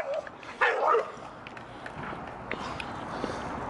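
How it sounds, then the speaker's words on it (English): A dog out on a walk past an old shoe factory and trainyard gives a short burst of one or two sharp barks close by, followed by quieter outdoor background noise. "Good boy, Tux."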